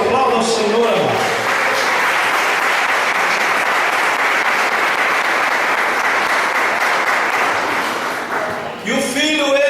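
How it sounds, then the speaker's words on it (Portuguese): Loud, sustained clapping from a church congregation during a worship service, dense and continuous for several seconds, with speech heard briefly at the start and end. "Aplauda o Senhor, amado."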